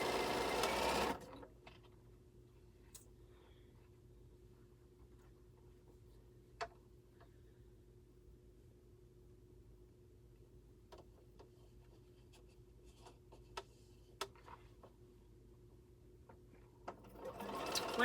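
A sewing machine stitches quilt pieces in two short runs, one at the start and one at the end, with a long quiet stretch of faint ticks and small clicks between them.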